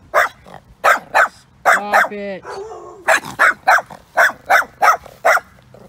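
A dog barks in a rapid, loud run of sharp woofs with a brief whimpering whine in the middle, while a person speaks over it close by.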